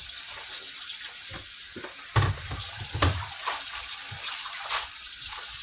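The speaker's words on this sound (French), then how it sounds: "je vais laver d'abord bien ma salade" Homemade salad lettuce being washed under running water, a continuous close stream with irregular splashes and sloshes as the leaves are moved about.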